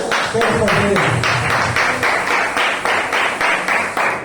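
A church congregation applauds together during a worship service, a steady, dense run of claps with a regular pulse lasting several seconds, moderately close.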